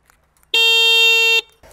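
A car horn sounds in one steady, loud blast lasting just under a second, set on a car being modified for a rally, with quiet surroundings before and a brief rustle after.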